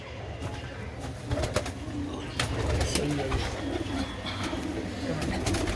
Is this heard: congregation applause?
no